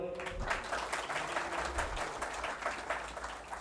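An audience at a spiritual gathering in Dubai claps steadily to welcome a guest. The dense, even applause runs the whole time with no pauses.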